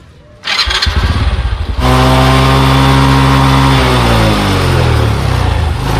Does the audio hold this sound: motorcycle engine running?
yes